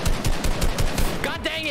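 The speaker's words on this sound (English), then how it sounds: "he's being shot by someone else" Rapid bursts of automatic gunfire in the video game Fortnite rattle in quick, even pulses through most of the stretch, with whistling game effects rising near the end.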